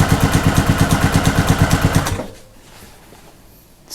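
A sewing machine stitches along a seam for a patchwork cushion's envelope back. The motor whirs close and loud with a fast, even needle rhythm for about two seconds, then stops abruptly into quiet.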